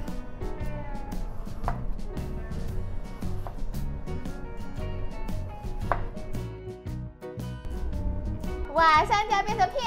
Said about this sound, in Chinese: 草莓切片